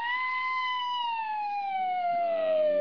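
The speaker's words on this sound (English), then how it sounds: "Siren going" A wailing emergency siren, a single long tone sliding slowly downward with strong harmonics, loud and steady from start to finish.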